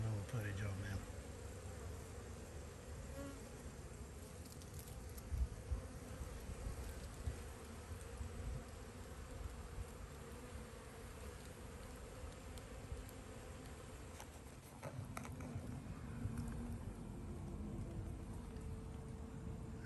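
Honeybees swarm around a backyard hive fitted with a genius lid, a steady, dense buzzing drone that fills the whole stretch outdoors.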